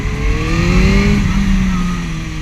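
A Suzuki GSR 600 motorcycle engine revs hard, its rising harmonic pitch climbing then settling, loud and close with steady wind noise throughout and no talk.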